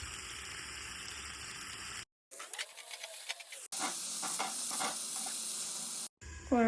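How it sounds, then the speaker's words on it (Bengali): Potatoes frying in oil inside a covered wok give a steady hissing sizzle broken by brief gaps and cuts, moderately close and fairly quiet, with no talking. "কড়াটা চাপা দিয়ে দিয়েছি, আলুটা ভাজা হোক।"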